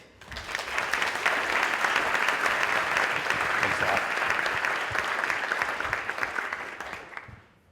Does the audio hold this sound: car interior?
no